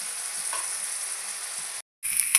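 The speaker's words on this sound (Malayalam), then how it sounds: "പകുതി മീനെ ഞാൻ ഇതിനകത്ത് ഇട്ടിട്ടുണ്ട്. ബാക്കി നമുക്ക് ഇത് വറുത്തെടുക്കാം." Anchovies (natholi) fry Kerala style in a pan with a steady, loud sizzle, broken by a brief silence near the end before the sizzling resumes.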